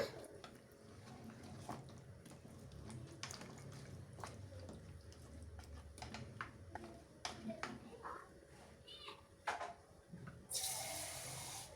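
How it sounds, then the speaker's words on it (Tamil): Water is poured into a pot of beef bone soup, a trickling, splashing pour under continuous talking with faint drips and kitchen clatter. "தேவையான அளவு தண்ணியும் இதுக்கு சேர்த்துக்கோங்க"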